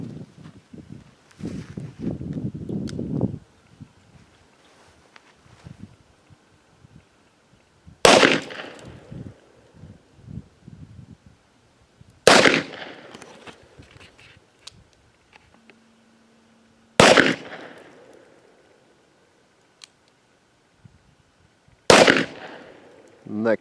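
Four loud, close gunshots from a big gun at an outdoor shooting range, each a sharp blast with a ringing tail, spaced several seconds apart, with quieter handling noise and murmured talk between shots.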